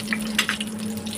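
Mustard seeds and urad dal splutter in hot oil in a kadhai, giving a close, steady sizzle broken by a few sharp crackling pops over about a second.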